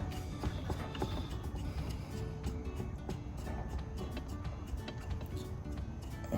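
Faint metallic ticking and ratcheting as a new shifter rod is threaded onto the shifter of a Permagreen Triumph, small irregular clicks over a steady background hum.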